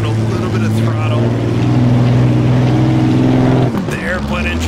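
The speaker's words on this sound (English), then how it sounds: "The airplane engine roars to life in third gear now to mitigate some wheel spin." Napier Railton racing car with its roaring aero engine in the Assetto Corsa driving game, a loud continuous low drone that holds steady and then dips as the throttle eases near the end, with a voice talking over it.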